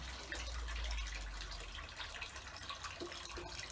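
Water drains out of a koi pond holding tank with a faint, steady gurgling and trickling rush, continuous and fairly quiet, with no voices.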